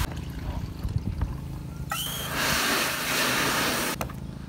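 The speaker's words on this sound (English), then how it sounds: "As I pour it in, I keep adding water to the bucket to allow more of the DE to release from the bucket." Diatomaceous earth slurry and water pour from a bucket into a pool filter, a steady rushing, hissing flow that starts abruptly after some handling noise and runs for a couple of seconds before stopping.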